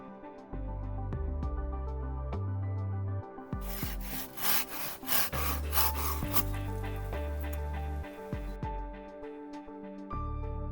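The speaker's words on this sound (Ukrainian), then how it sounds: "Як ріжеться пилка, ви можете зараз спостерігати на відео." Rhythmic back-and-forth strokes of a Kamaki P-300 Japanese pull saw cutting through wood, close and crisp, with a steady musical tone playing underneath.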